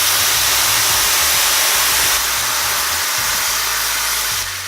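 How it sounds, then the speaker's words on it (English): Red wine hitting a hot pan to deglaze it while cooking beef short ribs, a loud rushing hiss of steam and sizzle that holds steady and eases slightly toward the end. "So add the red wine."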